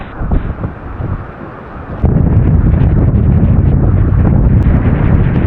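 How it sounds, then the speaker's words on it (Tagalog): Strong wind roars across a rainy beach campsite, a loud, continuous buffeting rumble that grows heavier and steadier after the first couple of seconds, with no one speaking. "Grabe yung lakas ng hangin."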